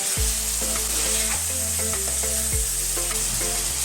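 Spices and half a spoon of turmeric frying in hot oil for a capsicum chicken curry, a loud continuous close sizzle with repeated scraping strokes as the mixture is stirred.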